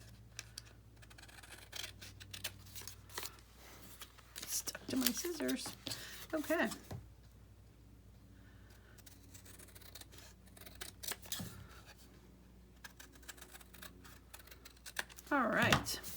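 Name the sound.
scissors cutting paper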